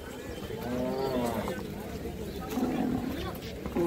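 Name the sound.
bulls at a cattle market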